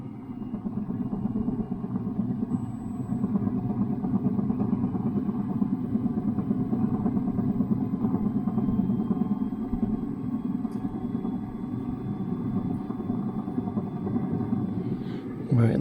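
A 100-year-old 415 V three-phase AC electric motor runs at 50 Hz, spinning near 1400 rpm with a steady, continuous low hum and rumble at moderate volume.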